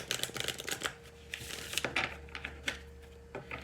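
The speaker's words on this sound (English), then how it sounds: "I'm just gonna shuffle" A deck of cards is shuffled up close, a quick run of soft riffling flicks and taps in a quiet room.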